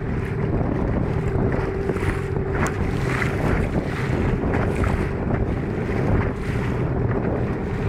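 A boat pounds across big sea waves in strong wind. Wind buffets the microphone hard with a steady loud roar, and water rushes and slaps against the hull throughout, with no one talking.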